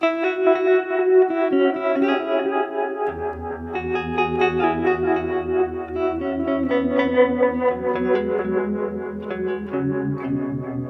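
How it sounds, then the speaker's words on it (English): Sustained electric guitar chords through a Strymon Deco pedal's harmonic tremolo, pulsing and wavering, joined by a deep bass line partway through; steady and fairly loud, no voices. "I have it on harmonic tremolo, which actually sounds a little bit like a univibe"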